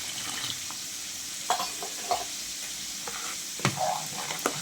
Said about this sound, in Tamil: நான் தேவையான அளவு தண்ணி சேர்த்துக்கிறேங்க.